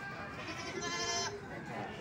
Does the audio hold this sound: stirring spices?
no